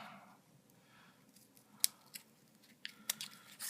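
Scissors make a few sharp, close snips as they cut a scoop shape from a dried acrylic paint skin, alone in a quiet room.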